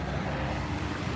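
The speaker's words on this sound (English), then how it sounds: "Except for the buses going by." Low, steady rumble of city buses passing on a street, a continuous broad drone heavy in the low end with no distinct voices over it.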